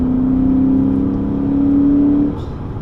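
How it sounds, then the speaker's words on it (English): Naturally aspirated V8 of a 2020 Lexus GS F, a loud, close, low warbling engine note held steady, rising slightly, then easing off near the end. "It makes kind of a low rev warble, something like you would hear from, Dodge or Scat Pack, one of those naturally aspirated V8s"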